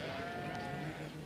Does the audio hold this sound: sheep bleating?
yes